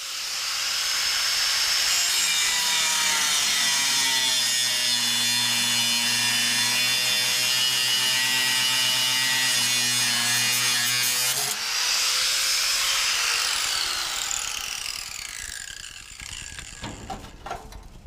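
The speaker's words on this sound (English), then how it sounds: "Don't ever grind shit like I do." Power grinder cutting metal parts off a 1931 Ford Model A body in a shop, a loud steady whine with layered harmonic tones for about eleven seconds, then shifting pitch and fading out near the end.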